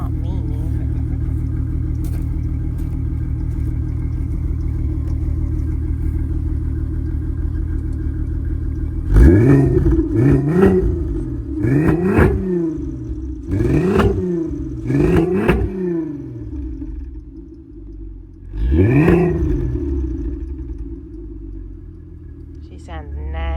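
A Volkswagen MK4 Jetta's VR6 engine idles with a low, steady rumble, then is blipped into several sharp revs that rise and fall, followed by a final rev after a pause.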